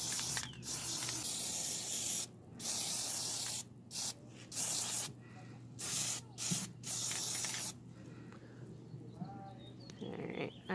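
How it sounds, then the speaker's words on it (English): Aerosol Plasti Dip sprayed onto a pair of gloves: loud, close hissing bursts of a spray can, several long blasts separated by short pauses, then quieter fiddling at the end. "now it is time to spray"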